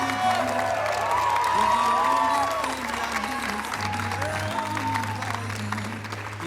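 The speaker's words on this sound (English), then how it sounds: "Let's give a giant round of applause to Camila and Lynn Bituin." An audience at a FASA Filipino culture night claps and cheers, a dense, loud wash of applause with scattered whoops and voices that eases slightly after a few seconds but continues throughout.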